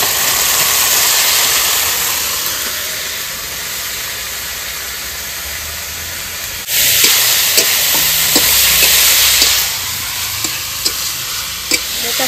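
Banana flower (mocha) goes into a hot pan for a Bengali mochar ghonto and fries in oil, a steady loud sizzle with a sharp jump when it lands, then repeated scraping stirs cutting through the hiss.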